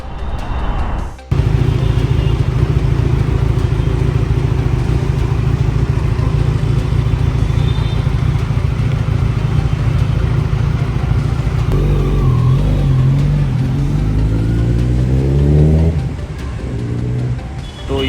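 A Kawasaki Z900 motorcycle engine idles with a loud, steady throb close by, then revs and settles in the final seconds before cutting off, with no talk over it.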